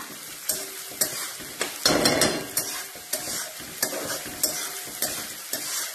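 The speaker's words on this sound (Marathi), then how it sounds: "कढीपत्ता घालूया, तर सगळं हलवून घ्या" Curry leaves stirred in a hot frying pan: rhythmic spoon scrapes come roughly every half second over a crackling sizzle, with a louder burst of spitting near the two-second mark.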